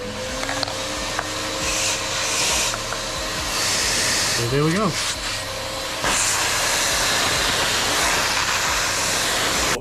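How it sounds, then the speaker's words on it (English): A MyTee carpet extractor vacuum, used for auto detailing, starts up and runs with a steady, loud broadband roar that fills the second half. A person speaks briefly over the machine noise. "turn my vacuum on, the MyTee."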